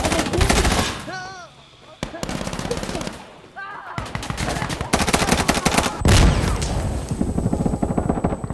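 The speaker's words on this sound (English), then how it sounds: "This gun's really good in close quarter combat, but not so much with long range, just because it's a little hard to control." Gunfire in the video game Insurgency Sandstorm from a close-quarters gun that is hard to control at range: loud rapid automatic bursts with a few pauses, sharp shots and game ambience, and brief voice sounds between the bursts.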